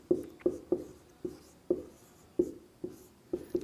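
Chalk or marker writing points on a classroom board, heard as a string of short, sharp taps and strokes spaced about half a second apart, close and clear.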